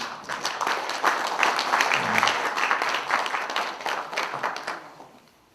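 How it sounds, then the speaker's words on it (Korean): An audience at a labor union delegates' meeting claps in a dense, sustained round of applause that holds steady for several seconds, then fades out. "두 분에게 뜨거운 박수를 좀 보내주십시오"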